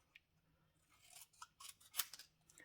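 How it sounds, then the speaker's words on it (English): Scissors snipping around a paper card die cut: a few quiet, close, crisp cuts spaced unevenly, growing denser toward the end, with no voices. "I'm gonna cut the die"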